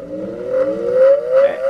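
A 6-inch quarter-horsepower bench grinder runs close by, its steady motor whine holding one tone and creeping slightly higher over a short stretch.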